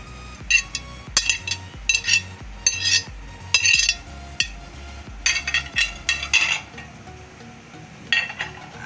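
A spoon clinks repeatedly against a metal pot while beef keema is mixed with fried onion, garlic, ginger, mint and chopped chilli, giving irregular sharp scraping and tapping strokes close by, with no talking.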